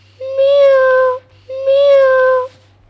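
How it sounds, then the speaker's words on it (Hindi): Two long, drawn-out meows, one after the other, each clear, loud and near, with a short pause between them and a low steady hum underneath. "अचानक बिल्ली की म्याऊं सुनाई पड़ती है।"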